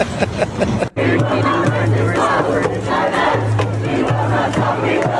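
A large protest crowd at a campus rally cheers and chants loudly and continuously, with massed voices rising in waves and a brief break near the start.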